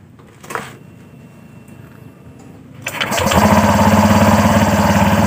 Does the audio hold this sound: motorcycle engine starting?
yes